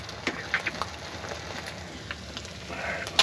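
Bacon and an egg frying in a pan inside a Vanagon camper, a soft, steady sizzle with faint pops and crackles, close and fairly quiet with no talking.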